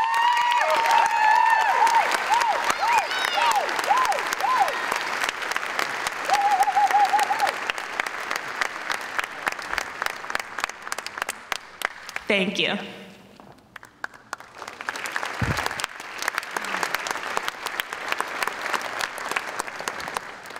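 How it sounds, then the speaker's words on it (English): Audience applause at a graduation awards ceremony for a music award recipient, dense clapping that thins out midway, with a brief spoken thanks and footsteps, then swells again. "Please give a round of applause for the 2017 PA Virtual Music Award recipient"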